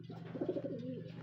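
A racing pigeon coos briefly, soft and close, during a sprint race training lap at a loft in San Pablo, Laguna.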